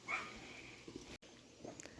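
Dogs bark and yip at neighbours arriving at a home garden in Nova Scotia, heard as a few scattered, fairly faint barks and whimpers over a low background hum.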